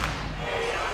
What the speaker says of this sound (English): this crowd is getting me hyped up